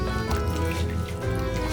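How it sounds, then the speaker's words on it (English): Hot cream, heated almost to boiling, poured over chopped chocolate and cubed butter in a bowl, a close, continuous liquid glugging and splashing with a brief softening midway. "When the cream mixture is almost at boiling point, remove it from the heat and pour it into the chocolate."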